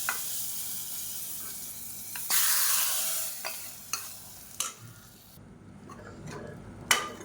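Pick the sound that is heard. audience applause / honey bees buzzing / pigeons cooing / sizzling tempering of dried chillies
sizzling tempering of dried chillies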